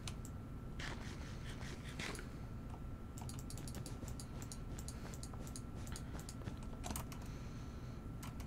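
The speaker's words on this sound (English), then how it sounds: "I swear if he's typing" Rapid keyboard typing in a video game clatters in quick irregular bursts of clicks over a steady low hum, fairly close and with no talk.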